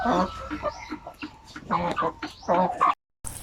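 A chicken suffering from indigestion clucks repeatedly up close in a quick, uneven series of loud calls, then breaks off into a brief silence before one more burst.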